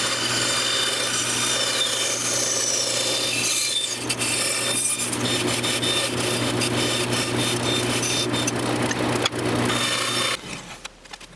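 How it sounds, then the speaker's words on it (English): A bandsaw cuts steadily through wood for a guitar neck removal jig, a continuous loud rasping whine that drops away as the cut ends. "we'll just cut this away with the bandsaw"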